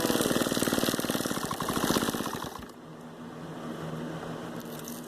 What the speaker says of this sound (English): And I sew straight down.